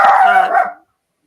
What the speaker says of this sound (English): My dogs are at it.